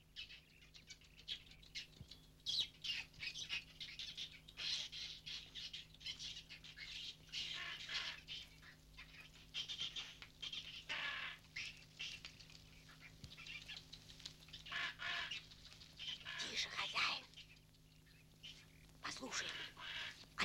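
Birds in a 1958 Soviet animated film chatter and twitter in quick, irregular bursts, faint and scattered over a quiet background hum, with a squawk or two among the calls.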